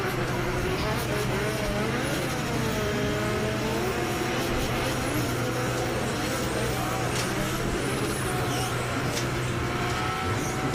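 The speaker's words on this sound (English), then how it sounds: "we can see those guys at the back of the circuit making their way to the start line, ready to warm their tyres" Drift cars idling and revving near the start line at a drift championship event, a dense continuous engine roar with rising and falling revs, loud and steady throughout.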